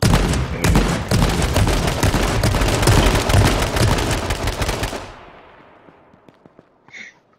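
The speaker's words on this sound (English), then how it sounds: "I'm like right by all these gunshots and can't find them." Dense, rapid gunfire crackles nonstop for about five seconds, then stops abruptly, leaving a few faint clicks and a short tone.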